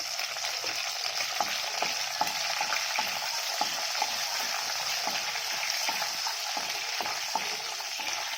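Green chillies and curry leaves fry in hot oil in a pan, a soft steady crackling sizzle with regular light scraping strokes of a spoon, close and fairly quiet, no talking.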